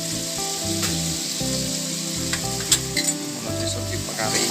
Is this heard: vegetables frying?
yes